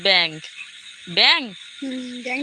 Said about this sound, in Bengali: হ্যাঁ রে ব্যাংক তুই শুনতে পাচ্ছিস ব্যাংক ডাকতেছে